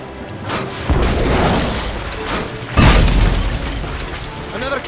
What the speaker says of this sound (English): Another cannon!